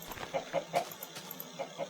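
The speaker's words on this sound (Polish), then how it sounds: "Chcę zabić tego kurczaka, nie wiem czemu, ale mnie jakoś irytuje." A Minecraft chicken clucks in short, evenly spaced bursts, about half a dozen quick squawky notes, fairly faint and alone.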